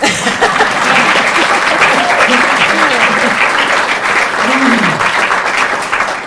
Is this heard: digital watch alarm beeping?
no